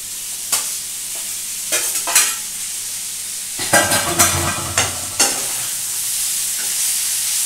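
Fried paneer pieces stirred into a salsa mixture in a pan, with several scraping, clattering stirs against a steady frying sizzle, the busiest burst in the middle, close and clear with no talk.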